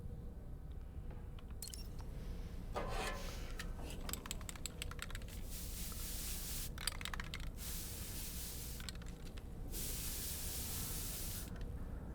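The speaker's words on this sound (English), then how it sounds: "Perfect highlights come out after you spray some can on your head." Spray can hissing onto a character's hair in the Death Stranding video game, a series of short and longer bursts of aerosol spray over steady game background ambience, with no voices.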